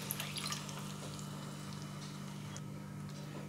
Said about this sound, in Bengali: আমি এখানে একটু দুধ ব্যবহার করছি, 1 কাপ দুধ দিচ্ছি